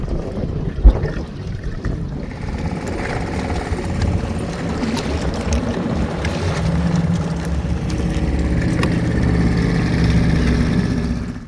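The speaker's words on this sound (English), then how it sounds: "let's jump in the dinghy, and Wavey and I will go over there and show" Small dinghy motoring across open water in Georgia's Low-Country, a steady engine drone with wind buffeting the microphone and water rush building gradually, close and continuous with no talking.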